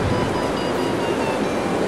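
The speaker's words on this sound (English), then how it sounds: "Pour a little bit of coconut oil in here." Coconut oil hits a hot pan with a broad, steady sizzle and hiss that holds at a loud level throughout, with no talking over it.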